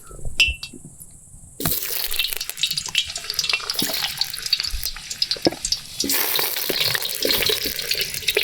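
Potatoes are dropped into hot oil in a kazan over an open fire: after a quiet start, a sudden loud crackling sizzle erupts and keeps going, with occasional metallic clinks.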